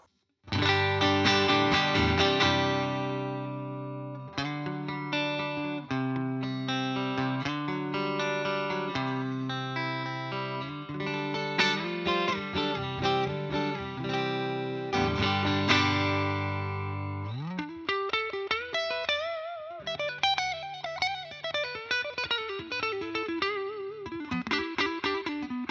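Clean electric guitar on a 2015 Gibson Les Paul Classic's neck single-coil pickup plays chords and single-note lines with a bright, chorused tone, then shifts into bending melodic phrases, sustained and clear.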